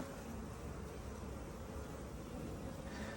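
Honey bees buzzing inside a nucleus hive box, a dense, steady drone that stays close and constant throughout without pauses.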